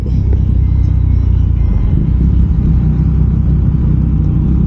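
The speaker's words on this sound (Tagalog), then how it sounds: "Oh my god, traffic." Road traffic on EDSA heard from a vehicle during a ride, a steady loud low rumble of engines and tires with no talking.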